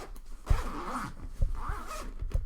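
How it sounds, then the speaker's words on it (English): A zipper on the side compartment of a 2019 R.G. Hardie & Co. flight case is pulled in three short rasping strokes, close and distinct, with brief pauses between them. "Zipper had kind of undone a little bit."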